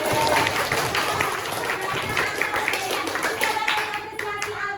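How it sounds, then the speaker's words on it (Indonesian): Children in a class applauding a classmate, a busy patter of many small hands clapping close by, steady throughout with faint voices mixed in. "tepuk tangan untuk Hafiz."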